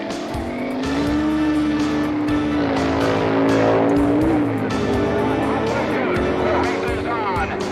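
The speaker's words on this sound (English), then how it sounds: "Arlen Vanke's Barracuda goes at it with Wally Booth's quick Camaro" A Plymouth Barracuda and a Chevrolet Camaro drag race at the 1960s NHRA Nationals, engines roaring and rising in pitch with tire squeal, heard loud under continuous commentary and crowd noise.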